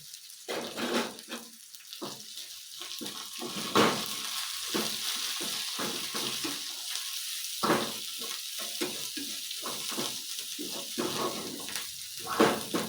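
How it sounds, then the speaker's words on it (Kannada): Cumin, garlic, turmeric and coriander leaves sautéing in hot oil, a steady close sizzle with intermittent clinks and scraping stirs, no talking over it. "ಜೀರಿಗೆ ಬೆಳ್ಳುಳ್ಳಿ ಅರಿಶಿನಕಾಯಿ ಕೊತ್ತಂಬರಿ ಸೊಪ್ಪು ಎಲ್ಲ ಹಾಕೊಂಡ್ಬಿಡೀ ಇದುನ್ನ ಎಣ್ಣೆಲಿ ಬಾಡಿಸ್ಕೊಳ್ಳೋಣ"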